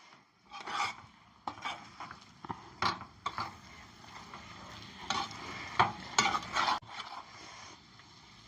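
Gobi manchurian of cauliflower with fresh coriander is tossed and stirred in a pan, with irregular scraping strokes and soft clatters of the spoon against the metal over a faint sizzle.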